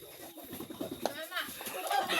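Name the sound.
chicken clucking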